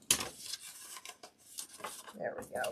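Rotary cutter trimming card on a cutting mat, a series of short scraping, rasping strokes and small clicks, close by, with brief soft voice sounds near the end.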